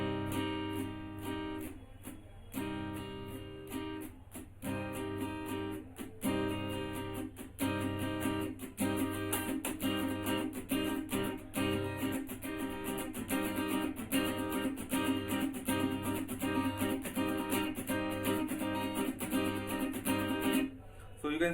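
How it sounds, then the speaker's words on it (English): Acoustic guitar strummed in a song's strumming pattern, the first six down-up strokes played slowly and repeated, steady rhythmic chords ringing close and clear with no talking over them. "So the first 6 strokes in a slow pattern will sound like this."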